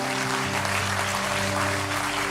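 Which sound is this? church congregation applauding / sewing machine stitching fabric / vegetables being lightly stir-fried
church congregation applauding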